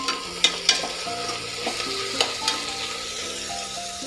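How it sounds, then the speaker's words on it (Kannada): Mint, coriander, curry leaves and ginger-garlic paste fry in oil for a restaurant-style veg biryani, giving a steady close sizzle with a few sharp stirring clinks and scrapes and faint tonal sounds in the background. "ಇದನ್ನು ಅಷ್ಟೇ ಎಣ್ಣೆಯಲ್ಲಿ 1 ನಿಮಿಷ ಬಾಡಿಸ್ಕೊಳ್ಳೋಣ"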